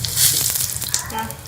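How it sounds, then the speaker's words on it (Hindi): Cumin seeds, curry leaves and whole red chillies frying in hot oil for a tadka over kadhi pakora, a loud, close crackling sizzle that swells briefly and then settles. "जीरा था, वो हम इसके अंदर ऐड कर लेंगे और कड़ी पत्ता इसको थोड़ा सा भून लेंगे"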